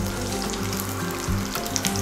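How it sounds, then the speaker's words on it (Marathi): Cumin seeds and garlic cloves sizzling in hot oil in a kadhai, a steady close crackle and hiss with faint popping, no voices. "तेल गरम झाल्यानंतर त्यामध्ये आपण अर्धा चमचा जिरे आणि लसणाच्या पाकळ्या टाकून घेऊयात"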